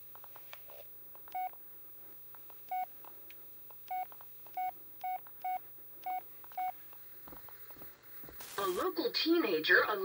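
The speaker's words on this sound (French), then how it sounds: "Mais c'est le téléphone." A telephone in the horror video game Blair Witch gives off a run of seven short, evenly spaced keypad-style beeps. A burst of louder noise and a voice follow.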